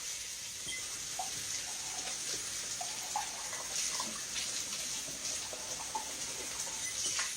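Running tap water rinses out a cup in a home kitchen, a soft steady hiss with faint splashes and drips, moderately quiet and continuous, with no talking.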